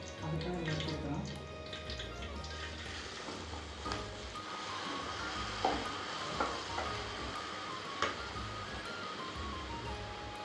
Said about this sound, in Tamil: அரிசி வறுத்தலாம்.